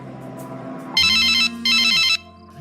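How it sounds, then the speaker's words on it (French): A telephone rings while a call is being placed: two loud, bright ring bursts, each about half a second long, separated by a short gap, heard close with no talking. "Je lance l'appel."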